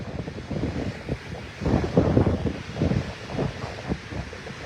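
Ocean surf and wind at Loch Ard Gorge on a rugged sea coast, with waves rolling in as repeated low surges and steady wind buffeting the microphone throughout.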